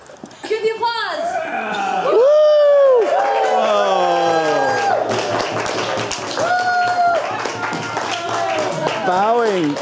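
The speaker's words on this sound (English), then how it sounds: "Cue the applause!" Clapping and cheering from a lively group during a playful children's performance, scattered claps under excited, high-pitched voices and shouts that dominate throughout.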